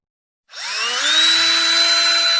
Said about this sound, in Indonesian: Kita pindah ke mode drilling.